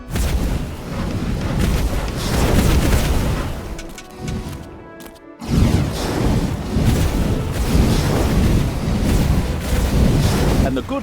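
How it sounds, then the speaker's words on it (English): A defensive camp bursts into flames in the video game Dungeons 3, giving a loud, continuous rumbling roar with booms and a brief drop near the middle, and a voice talks over it. "the good people's defensive camp went up in flames"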